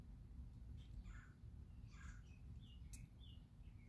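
A woodpecker calls outdoors in the morning with a few faint, scattered chirps over low, steady background hum, with no voices.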